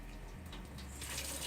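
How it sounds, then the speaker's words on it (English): Water runs from a shower tap aboard a boat, a steady hissing stream that swells slightly louder toward the end, close by with no talking. "There's water! This is the shower one."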